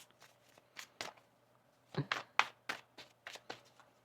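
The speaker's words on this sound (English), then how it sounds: "One more shuffle here." Tarot cards are shuffled in a series of short, crisp riffles and taps, close by and fairly quiet, with brief pauses between bursts.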